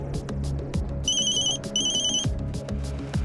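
A telephone rings in bursts of a bright electronic trill, two repeated ring patterns heard over a busy background of thumps and low rumble.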